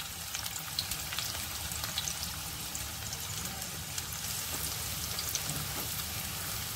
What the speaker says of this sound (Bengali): আমি প্রথমেই দিয়ে দেব কুচানো পেঁয়াজ, তেল তো গরম হয়ে আছে